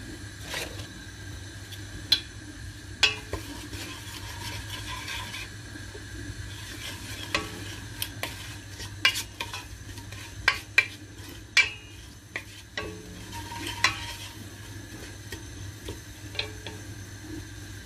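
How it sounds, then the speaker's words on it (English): Onions sizzle steadily in a hot pan, with scattered clicks and scrapes of a utensil stirring against the metal. "we're going to allow this to sizzle for a bit before we add the beans"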